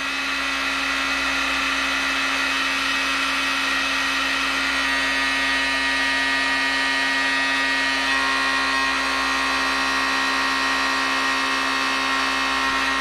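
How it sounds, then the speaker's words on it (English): A heat gun blows steadily while heating the insulation on a drone's wiring, a loud continuous whir with a fixed hum running unbroken from start to finish. "Take your heat gun."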